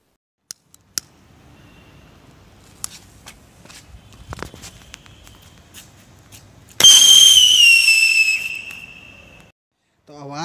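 A Cock brand sky whistle mini rocket firework launches outdoors after faint scattered clicks and footsteps, releasing a loud shrill descending whistle that holds for about two seconds and then fades out.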